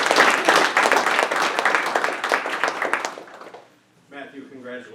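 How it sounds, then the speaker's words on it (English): Audience applause at a school board meeting, a dense burst of clapping for a student's parents that fills the room for about three and a half seconds, then fades out before a speaker resumes talking. "Can Mom and Dad please stand up and be appreciated and applauded? Ray and Maria."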